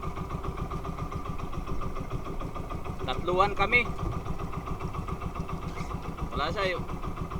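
A large boat's steady chugging engine drones close by with a regular low pulse, while voices talk briefly over it.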